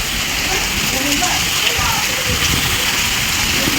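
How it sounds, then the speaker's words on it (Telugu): Heavy rain pours down in a loud, dense, continuous rush, close by, with a voice talking under it. "వర్షం దంచేస్తుంది ఈరోజు"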